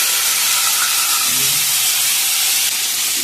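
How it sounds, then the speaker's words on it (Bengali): Crab legs seasoned with salt and turmeric fry in hot oil, producing a loud, unbroken broadband hiss close up with no pauses. "এবার এইগুলোকে এবার ভাজতে হবে, এই সব ঠ্যাংগুলোকে"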